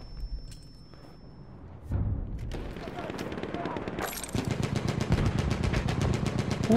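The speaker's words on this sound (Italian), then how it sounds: "Esploso il carro qua." Battlefield 1 battle with rapid automatic gunfire crackling over low rumbling, a tank blowing up amid the shooting, intensifying toward the end, with a voice talking underneath.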